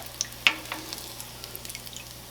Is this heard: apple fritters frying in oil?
yes